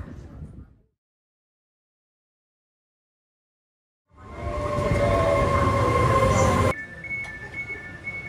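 A train rumbles steadily along the rails after a short silence, with a loud, broad roar and faint metallic squeals riding on top.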